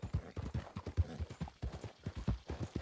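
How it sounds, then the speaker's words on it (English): Horse hooves clip-clopping at a steady walking rhythm in Red Dead Redemption 2, close and distinct, each hoof strike evenly spaced throughout with no talk. "I'd borrowed a friend's horse for the trip."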